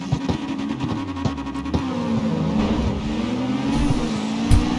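Ford GT engine in a racing video game, revving steadily with gear-shift dips and a sustained mid-pitched drone, loud and close throughout with no talk.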